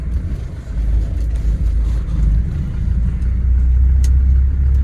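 A 40-year-old Mercedes-Benz W124 engine runs at a steady idle, giving a loud, even low rumble that fills the whole stretch in rainy weather, with no voices.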